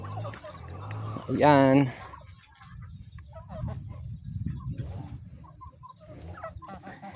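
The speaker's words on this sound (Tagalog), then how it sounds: "May mga pabo tayo dito. Tapos yung mga manok na pinapalaki natin dito." Turkeys and chickens on a diversified farm give a loud rapid gobble followed by scattered clucks and low murmuring calls, while a person speaks briefly close by.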